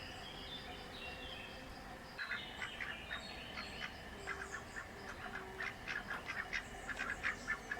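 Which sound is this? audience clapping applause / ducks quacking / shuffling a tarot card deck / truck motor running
ducks quacking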